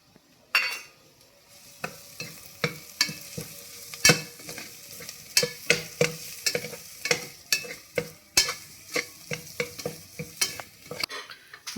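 Repeated scraping clacks of a utensil stirring pasta with masala spices around a frying pan, irregular and fairly close, with a light sizzle underneath.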